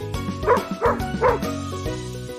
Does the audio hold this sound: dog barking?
yes